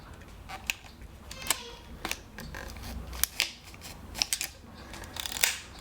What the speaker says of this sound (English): You slide your film inside the take-up spool.